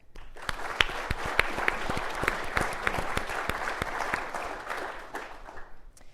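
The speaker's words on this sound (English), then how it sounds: "I just real quick want to give them all a round of applause" Small audience clapping for the course managers of a legal training course on technology in armed conflict, a modest round of applause with distinct individual claps, rising quickly and fading out after about five seconds.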